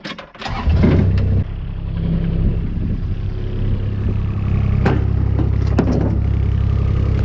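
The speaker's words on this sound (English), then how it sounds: "try and get the tractor started" A heavy tractor engine, being jump-started on a Western Australian sheep farm, cranks and catches, then settles into a loud, steady low rumble with a few knocks and rattles, close by.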